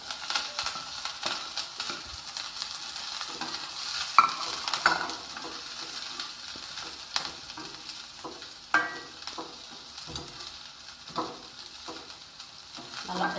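Chicken and halved green chilies are stirred and fried in a pan, making a soft sizzle under irregular scrapes and clinks from a utensil, with louder knocks scattered throughout.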